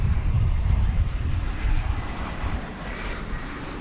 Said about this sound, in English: It's American Airlines, but it's the Piedmont livery. I believe that's an A321.